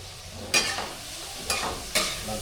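Three eggs go into a hot pan one after another, each landing with a sudden sizzling burst that fades into a quieter hiss before the next.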